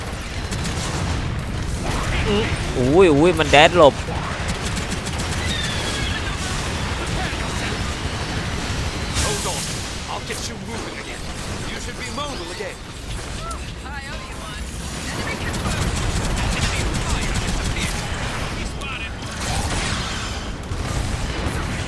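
Bursts of gunfire and booming blasts from a Gundam video game, with mechanical clanks and explosions layered over excited voices talking throughout.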